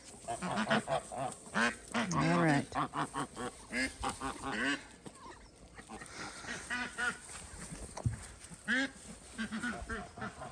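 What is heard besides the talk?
geese honking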